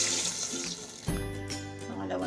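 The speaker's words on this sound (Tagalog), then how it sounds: "Lagyan na natin ng tubig." Water poured into a cooking pot while preparing sinigang na galunggong, a steady close splashing pour that changes pitch as the pot fills partway through.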